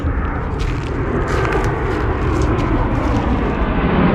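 A steady, broad roar of an airplane passing overhead dominates, loud and continuous, with faint rustling nearby.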